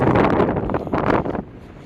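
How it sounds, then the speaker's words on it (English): Strong wind on a mountaintop on the Appalachian Trail buffets the microphone in loud, roaring gusts, then eases slightly toward the end. "It's very windy. I don't know if I assume you're hearing the wind."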